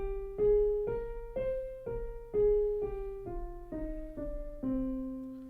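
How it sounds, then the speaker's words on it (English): C natural minor scale played one note at a time, each pitch stepping in a clear, even rhythm with sustained tones, alone and moderately loud. "If I start on C and I want to play a natural minor scale"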